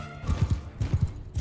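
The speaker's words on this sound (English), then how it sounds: "Horse archers!" Horses galloping in Mount & Blade II: Bannerlord, a quick run of soft, thudding hoofbeats in rhythmic clusters, fairly faint with no voices.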